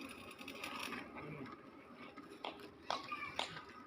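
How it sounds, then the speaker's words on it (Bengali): A tin-sheet fitting machine working on metal sheets, giving a steady mechanical whirring with sharp clattering bursts near the end, heard at moderate volume with a noisy workshop background. "সম্পূর্ণ মেশিন দিয়ে আমরা টিন লাগাই।"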